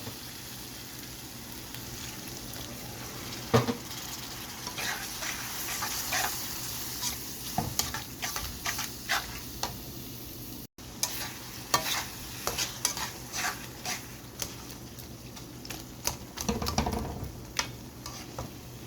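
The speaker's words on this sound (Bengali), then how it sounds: "এখন আমি আমাদের পানি দিয়ে খুব ভালো করে কষিয়ে নেব" Shrimp curry spices of turmeric, chilli and cumin paste cook with water in a pan, a soft continuous sizzle punctuated by repeated scraping stirs of a spoon against the pan, close and without talk.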